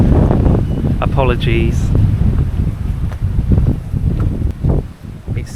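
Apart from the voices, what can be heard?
strong wind on a steep Devon trackway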